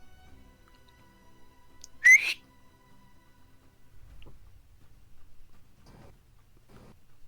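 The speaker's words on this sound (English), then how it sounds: "she'll just put her fingers to her lips and do the loud whistle" One loud, sharp finger-to-lips whistle rings out briefly near the start, rising in pitch, followed by faint background knocks and rustles in an otherwise quiet room.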